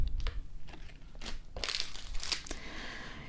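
An acetate backing sheet peeled off clear craft stamps, a series of close crinkly plastic crackles and taps followed by a longer crackling peel and faint rustle.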